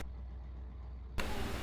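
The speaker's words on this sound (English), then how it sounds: "looks like the car is idling" A race car engine idles in a racing video game, a low steady rumble that holds constant, then jumps abruptly to a louder, brighter engine tone near the end.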